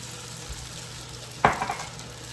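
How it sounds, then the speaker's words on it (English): Pasta water splashes into a sizzling pan of mushroom linguine, making a sudden sharp hiss over a steady background frying sound, close and brief. "Let's add in a little pasta water."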